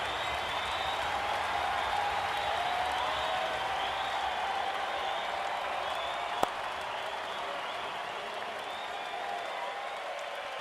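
Steady crowd applause and cheering at an IPL cricket match, a broad continuous wash of clapping from a large stadium audience that holds level throughout, with one brief sharp click midway.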